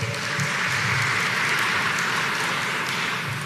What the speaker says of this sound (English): Let's give the Reverend a round of applause.